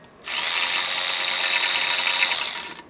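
A ratchet spins loose the bolts on a Toyota Sienna during an oil leak repair. It gives one steady, loud, rapid clicking run of about two and a half seconds, close up and alone.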